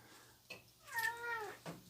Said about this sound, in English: You guys hear my cat